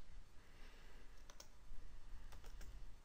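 Keystrokes on a computer keyboard while editing text in a Linux editor: a few faint, sparse clicks, one pair near the middle and a tighter cluster of three toward the end, over steady low background hiss with no talk.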